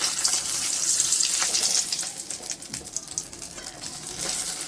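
Eggs frying in oil in a pan give a loud, crackling sizzle with scattered pops and a watery hiss that eases off midway before building again; no one talks.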